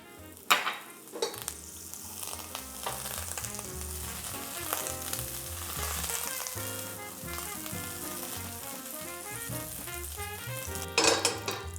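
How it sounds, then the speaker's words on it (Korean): Hamburger buns toasting face-down in melted butter in a hot pan, a continuous soft sizzle with occasional clinks and scrapes of a utensil against the pan, and no voices. "자, 이제 햄버거 번을 겉면만 살짝 토스팅 해주도록 하겠습니다"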